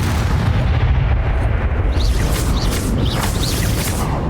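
A Confringo fire spell blast in a Harry Potter video game comes as a loud, continuous rumbling explosion with crackling bursts that keep rolling through the whole moment, with no talk over it.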